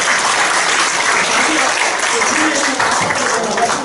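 Steady, dense applause from a church congregation fills the space continuously at a fairly loud level, with no breaks in the clapping.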